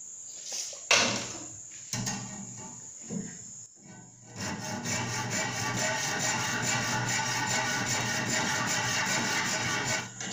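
Hand saw cutting a wooden piece for a miniature wooden truck, a few scattered scrapes and knocks giving way to a steady, close rasping stroke that runs continuously.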